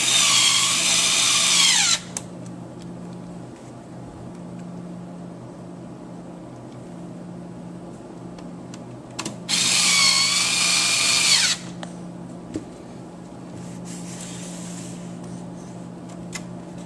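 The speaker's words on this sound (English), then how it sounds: "Using the two larger screws, go ahead and screw in the back of the power supply." Two bursts of a power drill driving screws into the back of a PS3 power supply, each about two seconds long with a falling whine, separated by a long quiet pause and a faint third burst near the end.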